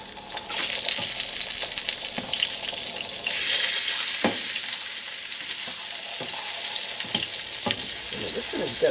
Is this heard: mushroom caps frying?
yes